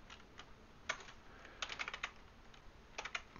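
Computer keyboard being typed on in bursts of quick clicky keystrokes, a few isolated taps followed by fast runs, close and fairly quiet with no talk.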